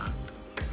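A jeweler's saw blade cuts through a metal nameplate in short rasping strokes, two brief bursts close and quiet with no talk.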